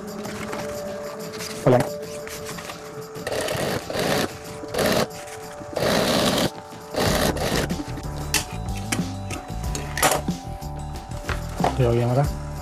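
A sewing machine stitches the edge of a homemade dhol travel bag in short bursts of rapid whirring, with pauses between runs and a person speaking over parts of it.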